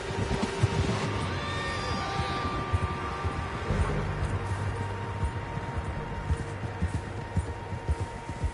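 Several horses neighing and whinnying in a video game's outdoor scene near a lake camp, the calls rising over a steady ambient bed with some hoof-like thuds, moderately loud and without speech.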